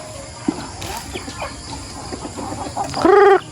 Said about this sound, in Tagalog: May kunting manok dito.